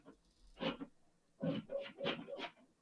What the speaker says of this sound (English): That is a loud doggy.